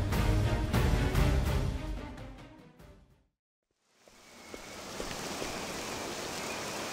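Steady rain in Octopath Traveler 2 hisses throughout, briefly cutting to silence midway before the downpour fades back in, a dense wash of falling water with no voices.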